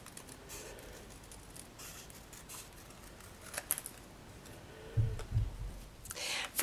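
Scissors snip through stenciled watercolor paper pieces, a few soft, close clicks and cuts in a quiet room, with a louder cluster of snips near the end.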